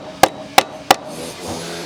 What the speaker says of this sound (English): I'll get the hammer and knock them all in